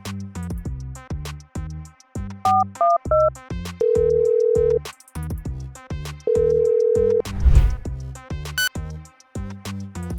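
A phone dials out, with tones, then rings twice in long steady electronic beeps, amid a melodic backing tune.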